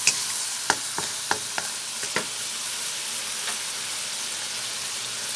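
Crab curry stir-fries in a home kitchen pan, a continuous loud sizzle broken by a quick run of sharp spatula scrapes and taps early on, then steady hissing alone.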